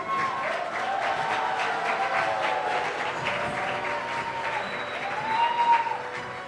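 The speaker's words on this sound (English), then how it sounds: "A special shout out to all those who keep clapping." Sustained audience applause fills the room at a university student achievement awards ceremony, a steady dense wash of clapping from a crowd with faint voices and cheers mixed in, swelling slightly near the end.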